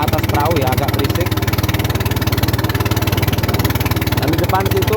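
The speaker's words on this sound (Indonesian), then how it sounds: "Mohon maaf ini agak berisik karena saya di atas perahu ya, agak berisik." Motorized wooden river boat engine thudding in a steady, loud, rapid pulse throughout, with someone talking over the continuous drone.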